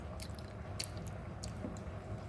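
Someone chews sautéed green papaya close to the mic, with faint, sporadic soft crunches and wet clicks over quiet background hiss.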